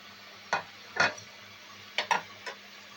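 Fried hilsa fish roe stirred in a pan, heard as a handful of short, light scraping clicks spaced irregularly over a faint low background hum.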